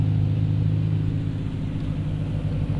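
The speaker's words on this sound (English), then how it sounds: "you can hear his car." A Nissan GT-R's engine rumbles steadily nearby with a deep, low drone, loud and continuous with no talk over it.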